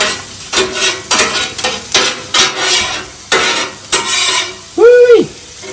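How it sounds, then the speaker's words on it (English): Onions sizzle on a hot griddle while a spatula stirs and scrapes them in repeated bursts, with a few sharp metallic clanks and a ringing tap near the end. "Then stir it up a little bit. Make sure you get the ones that are on the bottom up on the top and vice versa."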